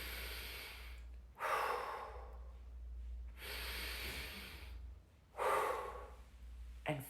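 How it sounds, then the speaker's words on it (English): Three slow, deep breaths taken one after another, each a long airy inhale or exhale, close to the microphone with quiet pauses between them and no talking. "take a few deep breaths"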